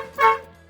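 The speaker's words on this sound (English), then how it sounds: "We're going to wire it in so we can use the fucking air horn." A truck air horn gives a single short blast, loud and close, fading quickly with nothing else around it.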